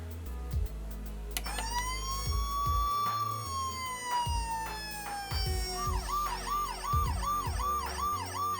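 Playmobil toy ambulance siren, a thin electronic wail that rises and falls once, then switches to a rapid repeating yelp, with light plastic clicks and handling noises underneath.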